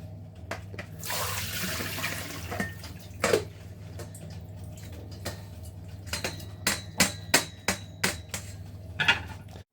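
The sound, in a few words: rinsing nettles with cold tap water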